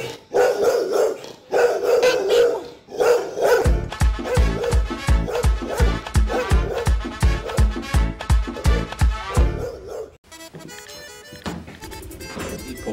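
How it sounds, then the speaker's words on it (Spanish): A dog barks loudly and close by, first a few drawn-out yelps, then a rapid rhythmic run of sharp barks, ending with a brief buzzy noise. "ten cuidado con el perro"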